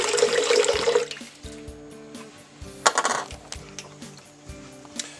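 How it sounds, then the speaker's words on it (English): Running water rinses salt out of a natural sausage casing, a gush of flowing water at first, then a quieter stretch of drips, splashes and small clinks. "we're also rinsing out any salt or contaminants that were in there"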